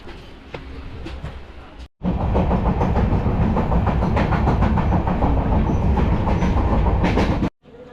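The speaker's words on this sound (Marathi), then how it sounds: "बघा ही ट्रेन आहे." A train runs on rails, a loud, close, continuous roar with rapid rhythmic clatter of wheels over the track, preceded and followed by quieter moments that are cut off abruptly.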